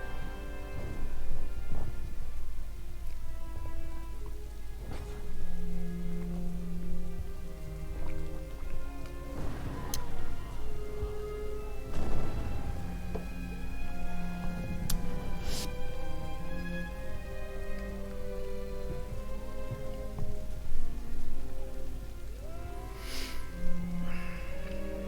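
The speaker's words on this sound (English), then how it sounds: "Oh, it's a rainy day in wherever we are, in Danzig." Rain falls over a battlefield near Danzig in the strategy game Empire: Total War, a steady wash of rainfall with scattered sharp cracks and thumps from battle sounds, no speech.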